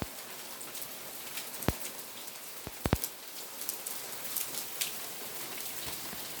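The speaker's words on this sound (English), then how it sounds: "as hail, and the noise it makes is quite magnificent." Hailstones falling in Cardiff, a steady dense patter on the ground with a few sharper, louder impacts as stones land and bounce close by, and no talk.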